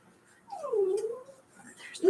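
A dog named Brody whimpers indoors, a faint, thin whining cry rising and falling for about a second, followed by a brief sharper yip at the end.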